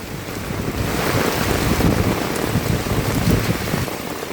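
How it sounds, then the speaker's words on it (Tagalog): Steady heavy rain pours down in Bucana, with flooding setting in, in a dense, continuous hiss and patter, loud and close, with no voices. "Walang tigil talaga ang ulan."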